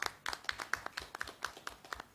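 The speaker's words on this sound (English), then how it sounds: "Another round of applause to Director Moses Kagwa." A small audience at a high-level economic policy dialogue claps for Director Moses Kagwa, with distinct, sparse hand claps in an uneven rhythm, fairly quiet and slightly distant, with no talking.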